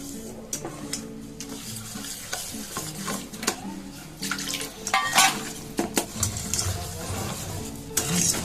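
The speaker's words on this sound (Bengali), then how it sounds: "অল্প অল্প জল দিয়ে এটাকে গুলিয়ে নেব" Batter with black cumin is mixed in a bowl, with a little water added bit by bit: repeated wet swirling and sloshing, with scraping and knocks of the utensil, close and moderately loud.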